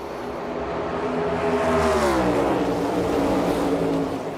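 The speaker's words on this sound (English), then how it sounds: "Larson would lose control of his race car" NASCAR race cars roar together at full throttle during a restart, their engines droning loud and steady with a rising, overlapping pitch as the pack runs wheel to wheel.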